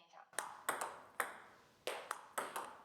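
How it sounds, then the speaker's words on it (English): A table tennis ball is brushed by a paddle to create spin, giving about six short light ticks and pings at an irregular rally pace, quiet and close. "That's the sound of brushing the ball to create spin"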